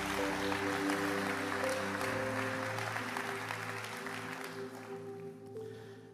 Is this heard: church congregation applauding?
yes